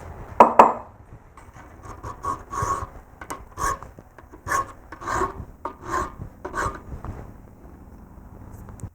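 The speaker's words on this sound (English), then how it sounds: "I'm still going to have to file that to make it look pretty decent" Hand file rasping across metal on a fabricated tool rest for a Craftsman bench grinder, a series of close, uneven scraping strokes with brief pauses between them.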